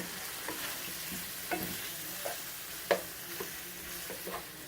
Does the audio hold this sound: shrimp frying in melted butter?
yes